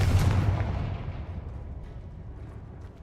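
A Confringo fire spell is cast in Hogwarts Legacy on PC, landing as a loud booming burst that fades over about three seconds into a rumbling tail, with no voices.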